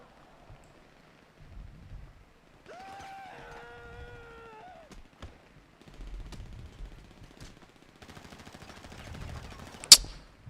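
Overhead gunfire in a zombie survival video game: scattered sharp shots, then a rapid burst of fire closing on one loud crack, with a sustained tonal wail partway through and no voices.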